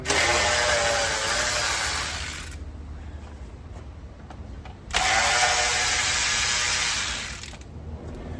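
Two long bursts of a power tool whirring, roughly two and a half seconds each, as bolts are undone on an INEOS vehicle grille behind the light bezel, with a quieter gap of faint clicks between.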